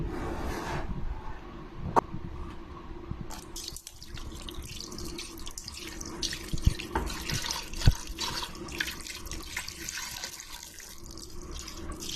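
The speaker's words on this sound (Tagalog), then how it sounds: "At lagyan na rin po natin ng tubig" Water splashes and gurgles steadily into a pot from a tap, with occasional clinks of metal, fairly quiet and continuous.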